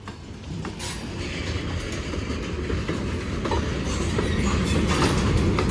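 Norfolk Southern freight cars, steel coil cars and gondolas, roll past close by with a steady loud rumble and rhythmic clickety-clack of wheels over rail joints, building slightly in loudness throughout.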